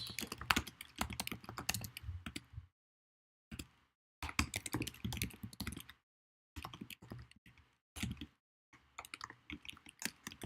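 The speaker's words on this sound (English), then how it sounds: "Man, I'm such a slow typer." Bursts of typing on a computer keyboard clatter up close, rapid uneven key taps in clusters of a few seconds each, split by short silent pauses.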